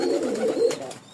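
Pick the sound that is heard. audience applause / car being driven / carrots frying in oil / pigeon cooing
pigeon cooing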